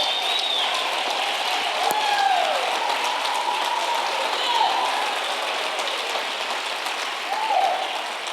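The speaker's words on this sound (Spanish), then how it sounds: "Denle un aplauso al Dios que vive por siempre." A church congregation in Maracaibo claps and cheers in praise, a sustained wash of applause from a large crowd filling the room at an even level, with faint voices rising within it.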